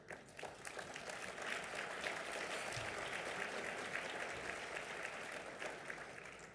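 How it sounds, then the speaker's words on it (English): Audience applause at a chamber of commerce parliamentary luncheon in the Cayman Islands, a steady wash of many hands clapping at moderate distance, sustained for several seconds without a break. "I didn't even have to say applause."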